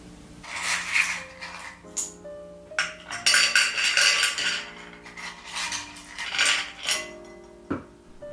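Clams clattering in a metal pot for white-wine steaming, a series of bright ringing clinks and knocks of shells and cookware at irregular intervals, fairly close and loud, with no voices.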